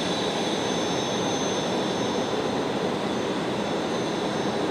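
A jet airliner on final approach to runway 19 left at Brisbane Airport at night, a steady, broad engine roar with a faint whine, constant and fairly distant throughout.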